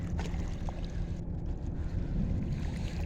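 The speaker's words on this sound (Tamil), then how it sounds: "இங்கே போட் போயிட்டே இருக்குது." A boat moving on the water at Tanjung Harapan, Port Klang, in Malaysia: a steady low rumble of engine and water wash mixed with wind buffeting the microphone, continuous and fairly loud, with no voices.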